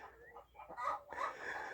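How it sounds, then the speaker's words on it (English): Four hens squawk and cluck inside a coop while a cockerel calls from outside, close and lively bursts of overlapping fowl calls in quick succession. "we've got 4 of them in the coop, all squawking away, and the cockerel's encouraging them from outside."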